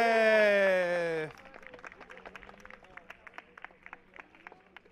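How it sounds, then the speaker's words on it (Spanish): Scattered applause from a small crowd for race winner Manu Míguez at a mini-category race prize-giving in Zuera, Aragón, rising after an amplified announcer's voice and continuing as light, uneven clapping. "Fuerte el aplauso para Manu"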